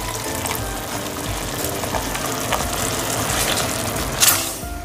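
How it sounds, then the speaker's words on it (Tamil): Pasta cooking water being poured into a pan of pink sauce on the stove, heard as a steady close hiss and splash with sizzling, ending in a brief louder splash near the end. "இதில் கொஞ்சமாக நம்ம பாஸ்தா வேக வச்ச தண்ணி இதில் ஆட் பண்ணிடலாம்."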